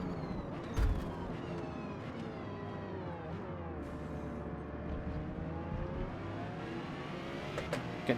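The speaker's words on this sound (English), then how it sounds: "Get dive bombed down the outside by a Ferrari." Ferrari race car sweeping past in Forza Motorsport, a steady loud engine drone with rising and falling harmonics as it closes and passes, under continuous racing noise.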